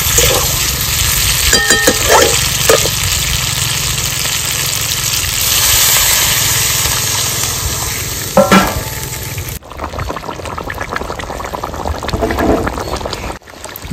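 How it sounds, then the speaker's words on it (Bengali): Water poured into a pan of spiced magur catfish curry, a loud hissing splash and sizzle with stirring that continues for several seconds before the sound drops and changes. "এবার দিয়ে দেবো জল।"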